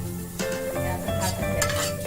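Sliced onions being dry-roasted in a pan for a thin potato curry, with brief stirring scrapes and light clinks of a utensil over a soft sizzle, close by.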